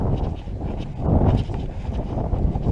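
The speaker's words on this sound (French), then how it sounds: "Il y a du vent ici." Steady low rumbling wind buffeting the microphone on a hike at a farm near Jodoigne, Belgium, swelling slightly in the middle, with no voices.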